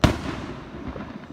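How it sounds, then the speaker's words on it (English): A single firework goes off with a sharp loud bang right at the start, then a rumbling tail decays for about a second. "you can have fireworks and shoot them off"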